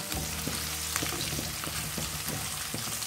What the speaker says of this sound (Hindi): हम लहसुन और अदरक को हल्का गोल्डन ब्राउन होने तक भून लिए।